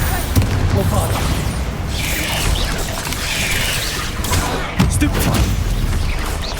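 Bombarda spell explosions in Hogwarts Legacy, heard as deep booming blasts with crashing debris amid a dense, loud combat mix, a sharp hit near the end, with voices in the background.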